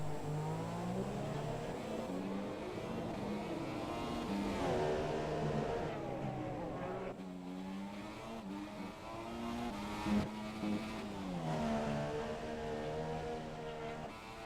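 Race cars in a racing video game streaming past during a Mexico pre-season race, engines whining and rising in pitch as they accelerate, with several overlapping passes and shifts at moderate loudness.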